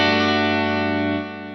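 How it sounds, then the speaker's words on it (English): A guitar fed through a Fractal AM4 delay block set to a very short 3 ms time gives one sustained, effected tone with a hollow, comb-like notch quality. It rings steadily, then drops slightly in level near the end, with no talk. "You can hear that the frequency of that kind of notch filtering sound is moving around, but we're not getting a chorus sound."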